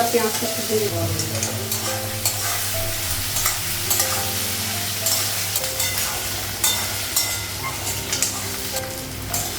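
Onion and taro stir-fried in a pan make a loud, steady sizzle, with repeated scraping and clinking of a utensil stirring against the pan.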